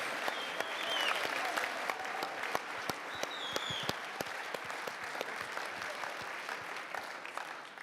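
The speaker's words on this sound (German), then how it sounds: "Mit Applaus, bitte laut." A conference audience in Cologne applauds, with steady clapping and a few sharp individual claps standing out near the front, and some voices underneath.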